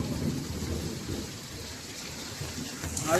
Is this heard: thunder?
yes